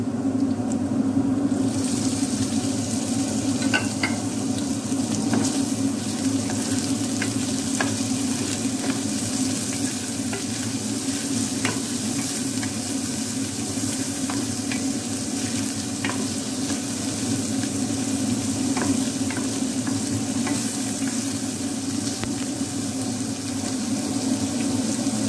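Sausage and garlic fry over low heat in a pan for pancit, giving a steady, even sizzle with faint crackles that runs the whole time without speech.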